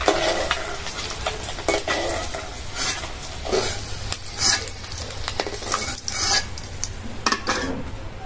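Quail eggs fry in oil in a pan, with a continuous crackling sizzle broken by frequent clinks and scrapes of a utensil against the pan.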